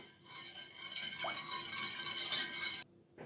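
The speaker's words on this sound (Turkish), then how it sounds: "Bir karıştıralım." A spoon stirs sugar into two glasses of milk in a bowl, a quiet continuous swirling with faint clinks against the side, ending abruptly.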